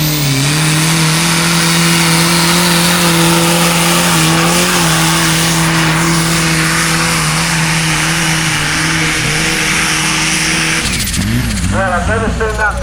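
A pulling tractor engine roars steadily at full throttle during a tractor pull at Laughton, close and loud, then revs and changes pitch near the end as a voice commentates over it.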